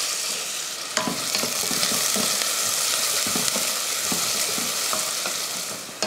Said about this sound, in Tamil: வெங்காயம் பாருங்கள் இந்த அளவுக்கு நல்லா பொன்னிறமாக வதங்கி வரணும்.